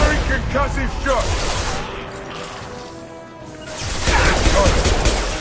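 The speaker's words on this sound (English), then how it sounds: "Firing concussive shot." A concussive shot power fires in Mass Effect 2 amid game combat noise, a loud blast-like burst near the start, with dense effects and voices running throughout and swelling again toward the end.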